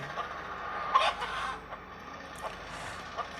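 A chicken clucks a few short times over a quiet trailer music bed, the calls soft and spaced apart.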